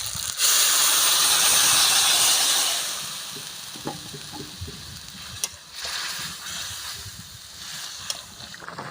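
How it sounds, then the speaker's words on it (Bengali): Fish curry liquid poured into a pan of freshly fried spices including cumin paste, bay leaf and five-spice, giving a loud burst of hissing steam and sizzle that gradually fades to a quieter bubbling simmer. "মশলাটা আবার ভাজা হয়ে গেছে, আমি ঝোলটা ঢেলে দেব।"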